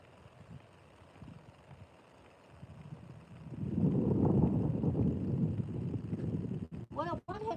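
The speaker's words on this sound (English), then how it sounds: "Getting really windy." Strong gusts on a cold day buffet the microphone, starting with low rumbles and building into a sustained heavy roar midway, while a voice speaks briefly near the end.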